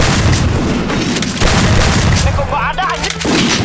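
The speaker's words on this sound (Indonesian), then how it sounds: "Shotgun." Shotgun blasts in a mobile shooting game, several loud booming shots in quick succession, with a player's voice talking over the action near the end.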